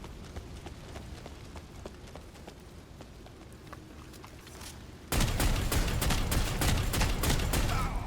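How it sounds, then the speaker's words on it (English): Autocannon fire in the video game Necromunda: Underhive Wars, set in a gang battle: faint distant ticking shots at first, then a sudden loud, dense barrage of rapid heavy rounds that continues to the end, without speech. "she just shot me with an auto cannon"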